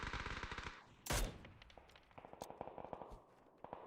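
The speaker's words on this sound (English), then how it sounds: "Uzi with a nade over the top." Rapid Uzi gunfire in the PUBG battle royale game, a dense burst of shots up front followed by a loud bang and further scattered distant pops and footsteps, no voices.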